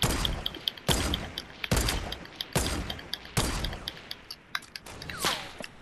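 Five sharp, spaced gunshots in Fortnite, each a hard crack with a short decaying tail, fairly quiet overall, followed by a faint rising whistle-like tone near the end.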